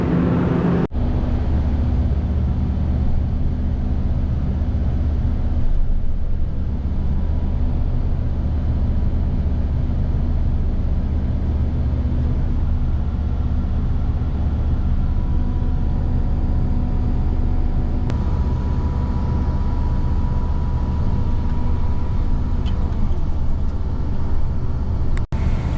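A Hagie sprayer drives through tall corn on a farm, a loud, constant engine and drivetrain drone heard from inside the cab, with a steady low rumble and a faint whine, unbroken throughout and without voices.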